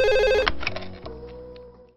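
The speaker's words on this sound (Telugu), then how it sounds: "ఓకే వారు ఆ ఫోన్ తీ." A telephone rings loud and close with a repeating electronic trill, which stops after about half a second, followed by clattering handling sounds as the phone is picked up.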